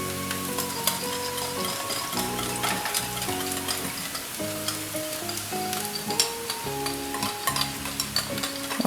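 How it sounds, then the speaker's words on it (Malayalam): Beaten egg added to fried onions in a pan, sizzling steadily while being stirred, with crackling pops and rhythmic spatula scrapes under faint background music. "ഇനി നമ്മുടെ മുട്ട ഇതിലേക്ക് എടുത്തിട്ടുണ്ട്"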